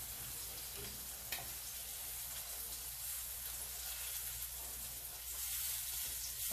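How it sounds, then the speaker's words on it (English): Mixed vegetables are stirred in a frying pan on a turned-down stove as crispy shrimp fried rice is cooked, giving a steady, close sizzle with faint scraping throughout and no talk. "I turned the stove down and I'm turning my mixed vegetables, stirring it"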